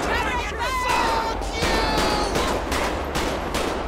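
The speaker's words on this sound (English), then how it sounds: "Somebody's still shooting." Gunfire in Grand Theft Auto V during a police patrol: a dense, continuous fusillade of overlapping shots fills the scene, loud and sustained, with crowd babble and voices mixed underneath.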